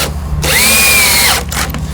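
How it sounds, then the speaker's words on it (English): A power drill drives a 2.5-inch outdoor deck screw into a wooden board for a raised garden bed, one loud whining burst that rises and then stops, with quieter work sounds on either side. "I'm just angling my screws a little bit to help with so it doesn't split the boards at the end"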